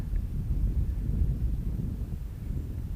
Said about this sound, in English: And no problem with this wind